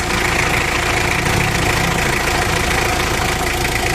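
A Mitsubishi L300 van's engine idles steadily with the clutch pedal pressed down, a continuous close, even mechanical drone with faint knocking texture and no talk.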